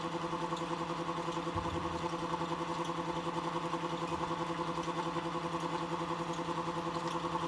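A Muller motor-generator runs with a steady, faint electrical hum and a low, even whir throughout.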